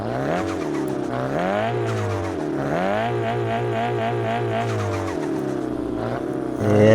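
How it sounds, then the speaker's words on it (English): The newer Honda Civic Type R in the Car Parking Multiplayer video game revs its engine in loud, close repeated surges, the pitch climbing and falling several times with a bassy tone. "we got the newer Type R in it. I think it has like a heavier sound, like a more bassy sound"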